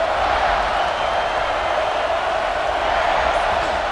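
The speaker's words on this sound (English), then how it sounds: "This crowd ready to make its presence known." Video game stadium crowd in EA Sports College Football 26, a steady loud roar of many voices that fills the whole stretch without pause.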